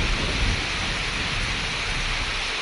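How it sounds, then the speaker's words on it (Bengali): Heavy rain pouring down during a violent storm, a loud, dense, continuous roar of water with deep low rumbling underneath, steady and close with no voices. "ধারাহার বরষুণ"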